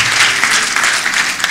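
A church congregation at a gospel gathering breaks into loud, dense applause, a sustained wash of many hands clapping close and even throughout.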